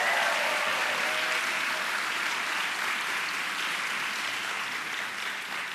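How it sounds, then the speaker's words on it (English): A crowd at a CreativeMornings talk event in New York applauds steadily, a dense wash of clapping that holds throughout and only slightly fades toward the end. "Can we give them another round of applause?"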